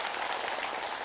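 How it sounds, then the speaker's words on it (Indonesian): Studio audience of women applauding teachers during an Islamic religious talk show, a steady dense wash of clapping filling the whole moment with no gaps. "Tepuk tangan buat guru kita."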